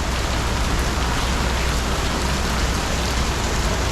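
Steady rain falling in Taipa Village, Macau, a dense, even hiss of drops on street surfaces that stays constant and close throughout, with no voices.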